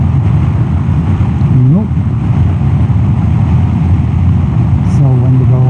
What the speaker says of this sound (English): now there's lots of wind on my helmet